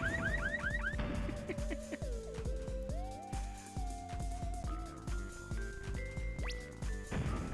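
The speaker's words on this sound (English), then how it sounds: "It's the car alarm guy." Electronic car alarm enemy in the N64 game Bomberman Hero, a loud warbling siren with rising and falling wails and repeated chirping tones that runs continuously alongside game music and effects.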